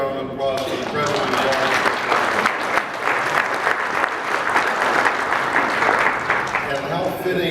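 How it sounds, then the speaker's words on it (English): Conference audience applauding a speaker at a sustainability and infrastructure forum, dense sustained clapping throughout, loud and close, with a speaker's voice over it near the end. "let's give another round of applause to the President."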